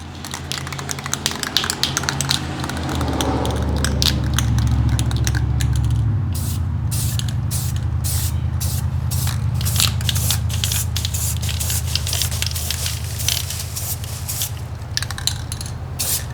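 Aerosol spray paint hisses onto brake calipers in a light first coat of bumblebee yellow, a steady close broadband spray with a low hum underneath and short breaks between passes.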